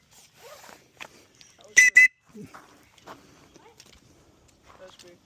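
Two short, loud whistle blasts in quick succession ring out outdoors during a rappelling session, with people talking quietly before and after.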